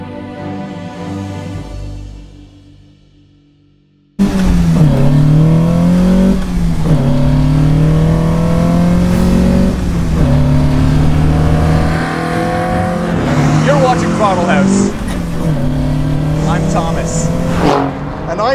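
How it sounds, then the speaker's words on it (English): A 2020 Alfa Romeo Giulia Quadrifoglio roars through its quad exhaust, starting abruptly and rising and falling in repeated revs, loud and close, with a voice speaking at times. "The engine starts at the push of a button, releasing a roar from the quad exhaust tips."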